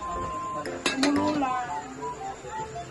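A metal lid clanks onto a pot of boiling chicken adobo with a couple of sharp clinks and a brief ringing, while a voice speaks nearby.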